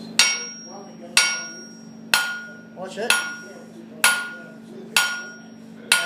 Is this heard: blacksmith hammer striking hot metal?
yes